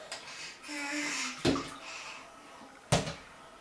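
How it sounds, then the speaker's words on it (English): A child splashing water in a bathtub, with a low watery wash and two sharp, close slaps of water about a second and a half apart echoing in the bathroom. "Fun in the bathtub."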